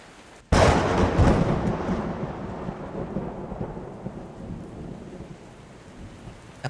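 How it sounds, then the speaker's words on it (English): A sudden loud crack of thunder in a night storm opens into a long rolling rumble that slowly fades beneath steady falling rain. "A peal of thunder loud enough to make Ash and I jump shakes the night air."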